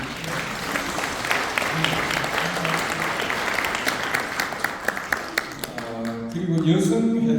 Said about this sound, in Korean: 박수 한번 보내주시고